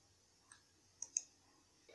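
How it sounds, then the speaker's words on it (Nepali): A computer mouse clicks on a Next button while setting up a Facebook photo frame, giving a few sharp, quiet clicks spaced unevenly in a silent room. "अब म नेक्स्टमा क्लिक गर्छु।"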